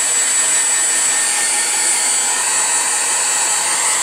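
A hair dryer blows steadily and loudly on a freshly painted watercolor of feathers, a constant broadband whoosh with no change across the whole stretch and no voices.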